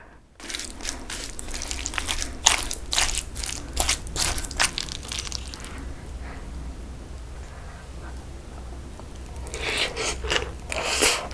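Someone eats spicy cockle bibimbap at home, close wet crunching and chewing in bursts with a quieter pause midway, then more chewing and clinking near the end.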